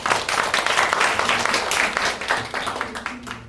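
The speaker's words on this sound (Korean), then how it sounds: "큰 박수 부탁드리겠습니다" Audience applause at a Wonju community forum on urban regeneration, a dense steady patter of many hands clapping across the whole stretch with a voice faintly underneath.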